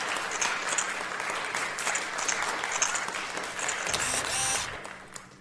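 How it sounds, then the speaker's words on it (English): Applause in the indie video game Mitoza: a crowd claps continuously at moderate volume, and a brief mechanical whir rises near the end as the clapping fades. "Applause."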